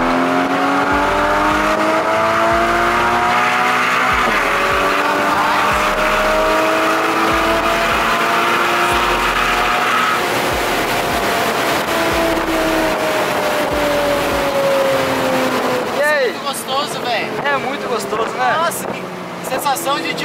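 A Porsche engine and exhaust accelerating, loud and close, rising in pitch through the gears with a smooth harmonic roar, a shift partway through, and a rough crackling exhaust near the end.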